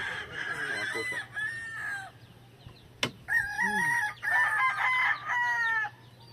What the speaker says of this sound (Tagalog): ito po yung isa sa broodcock ko na regular hatch gray